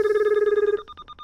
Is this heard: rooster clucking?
no